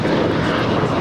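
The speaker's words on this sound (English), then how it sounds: "Delta 351 coming in from JFK. It's a 767-300 ER." A Delta Boeing 767-300ER airliner on final approach into Los Angeles International Airport gives a dense, loud, continuous engine roar in a brief close pass.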